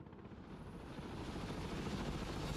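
A helicopter in the video game Broken Arrow drones with a steady, dense rotor and engine rumble that holds at an even, moderate loudness throughout, with no voices.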